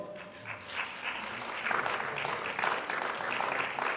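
An audience applauds at a school literary competition award ceremony. Steady, fairly faint clapping rises in waves and keeps going for several seconds, with no voices over it.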